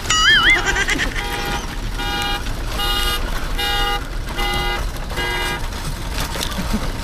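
A car alarm cycles through loud warbling and repeated honking tones, steady and close, with traffic noise rumbling underneath.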